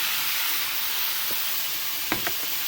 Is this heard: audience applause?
no